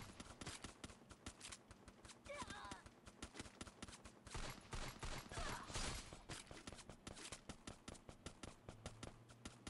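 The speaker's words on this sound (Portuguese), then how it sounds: "Como é que tem um cara atirando? Me atirando lá." Gunfire in the Free Fire battle royale game, with dense rapid bursts of automatic shots and scattered single cracks throughout, while a player talks over the action.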